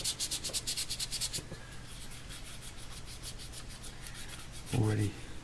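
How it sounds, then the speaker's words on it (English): Dry, steady rubbing strokes of sanding a model cylindrical hopper car, rapid and rhythmic at first, then a softer continuous scrape, with a brief knock near the end. "I'm just using this sanding dry"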